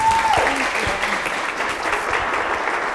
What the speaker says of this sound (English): please join me in a round warm of applause for Dr.